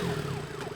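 An ambulance siren passing a city junction, its wailing tone sweeping up and down at moderate distance over steady traffic rumble.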